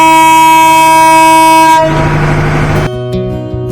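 The Saikat Express pulls out of Chattogram railway station with a loud, close sustained horn blast, followed by a rumbling, clattering rush and a softer lingering tone; no voices.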